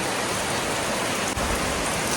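A steady, full roar of heavy rainfall fills the air, constant and close, with one brief dip partway through and no talking.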